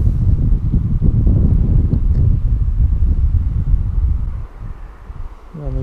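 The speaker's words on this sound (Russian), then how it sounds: "ветер, конечно, страшный" Strong, gusty side wind buffeting the microphone on a fishing outing after a night of snow and rain, a loud continuous roar that eases slightly near the end.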